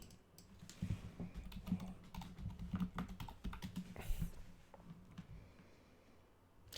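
Someone typing a search on a computer keyboard, a busy run of quick, close key clicks and taps that thins out near the end, with no voices.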